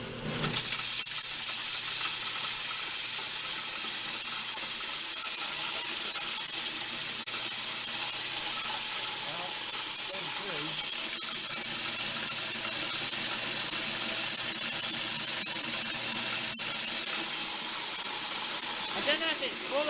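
A continuous loud whirring, hissing machine roar of a hammer mill grinding corn, steady throughout with faint rattling underneath.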